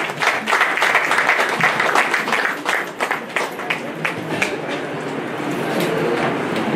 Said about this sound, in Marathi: एकदा जोरदार टाळ्या झाल्या पाहिजेत मॅडमांच्यासाठी